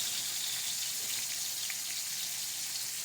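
Pot roast searing in a hot pan, a steady, even sizzle with faint crackles throughout, close and continuous.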